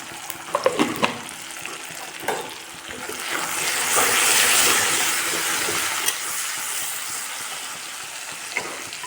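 Tomatoes frying in a pan with cumin and turmeric: a spoon scrapes and taps a few times at first, then a steady hissing sizzle swells and stays close, with no talking.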